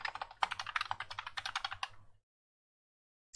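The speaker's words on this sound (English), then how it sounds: "we're going to type block, B-L-O-C-K" Quick bursts of typing on a computer keyboard while entering a command in AutoCAD, close and crisp clicks in a steady run for about two seconds before falling silent.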